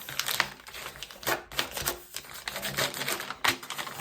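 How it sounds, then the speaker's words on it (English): A sheet of paper being folded in half for a paper craft, with crisp crinkling and rustling, soft creasing strokes and a few sharper taps as the fold is pressed flat. "So first you fold it in half."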